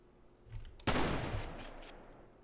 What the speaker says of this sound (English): Alright, let's try the shotgun.